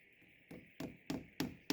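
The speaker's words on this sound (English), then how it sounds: "I'm hammering in the 100mm or 4-inch nails into the side of the post so that it sticks out into the mortar joint." A hammer drives 100mm nails into the side of a wooden post beside mud brick walls, five sharp strikes in a steady rhythm about a third of a second apart, fairly faint but distinct, with no talk.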